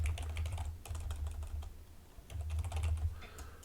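Rapid clicking keystrokes on a computer keyboard as a name is entered, steady and close, with brief pauses and a faint low hum underneath.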